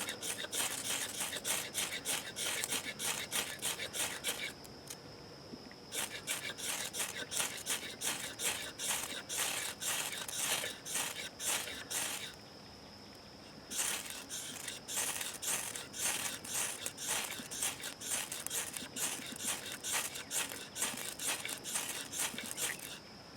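A sharp 90-degree knife spine scrapes wet wood in rapid repeated strokes, making close, crisp rasping that runs in quick bursts with two brief pauses and no voices.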